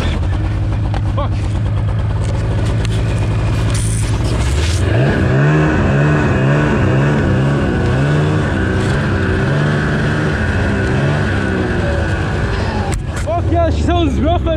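A loud Ski-Doo snowmobile engine runs rough close by, revving and wavering unevenly with a sputtering tone, while voices talk over it.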